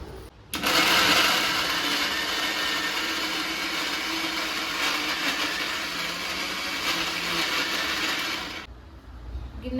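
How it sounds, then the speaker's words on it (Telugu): A mixer grinder runs steadily, whirring loudly with chopped ingredients for a fish curry in the mixie jar; it starts abruptly, holds a constant buzzing drone for about eight seconds, then cuts off. "కట్ చేసి మిక్సీ జార్లో వేసుకొని మిక్సీ పట్టుకోవాలి"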